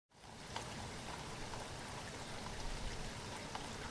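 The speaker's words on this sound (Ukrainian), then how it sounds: "Так, це дощик крапає, вірно." Autumn rain patters and drips steadily, a continuous soft wash of drops with occasional slightly louder ones, heard alone without voices.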